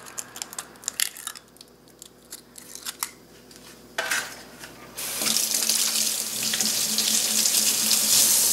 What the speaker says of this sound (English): I make sure to wash my hands whenever I'm working with eggs